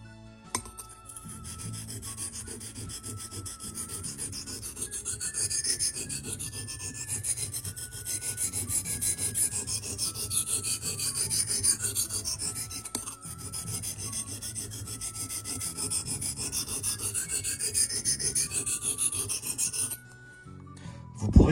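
A leatherworking cutting tool's edge is sharpened and honed in a steady, continuous rasping rub, close and even for about twenty seconds, with no talking.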